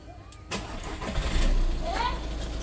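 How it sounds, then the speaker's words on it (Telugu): A Volkswagen Vento Highline diesel car with a five-speed manual gearbox cranks and fires on the first try, then settles into a steady, close diesel idle. "ఒకసారి ఇంజన్ కూడా స్టార్ట్ చేసి చూపిస్తానండి"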